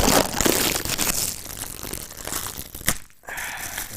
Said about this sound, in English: So this is the clamp first of all. So let's just unwrap that.